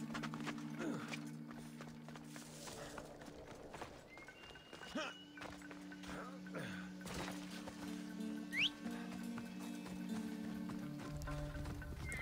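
A horse's hooves clip-clop at a steady gait in the Assassin's Creed Odyssey video game, quiet and rhythmic beneath a low game soundscape with a faint whistle-like tone.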